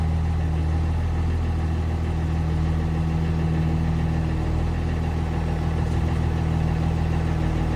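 A car engine idles steadily after a cold start, with a constant low hum and a smooth, even tone throughout and no speech.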